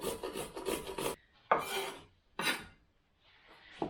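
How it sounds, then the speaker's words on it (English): Cucumber being grated by hand, several short raspy strokes in bursts with brief pauses between them, close and moderately loud with no talking. "And lastly, we're going to grate some cucumber."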